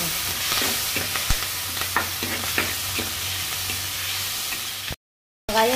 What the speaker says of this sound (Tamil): தக்காளி போட வேண்டும். அது கூட கருவேப்பிலை போடணும். நல்லா வதக்கணும்.